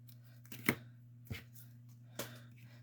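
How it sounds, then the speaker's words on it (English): Scissors snip through adhesive sheet for a papercraft project, three crisp cuts spaced about half a second apart over a faint steady hum. "So I'm just gonna cut another piece."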